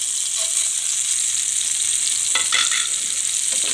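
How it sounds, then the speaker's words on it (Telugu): Mustard-seed and spice tempering frying in hot oil for tomato chutney served with dosa, a loud, steady sizzle with a few sharp crackles bursting through midway, no voices. "ఇలా చట్నీ గ్రైండ్ చేసుకొని ఇప్పుడు పోపు పెట్టుకుంటున్నా."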